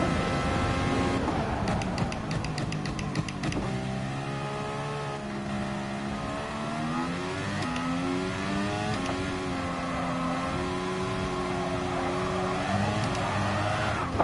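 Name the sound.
McLaren race car engine revving in Gran Turismo Sport video game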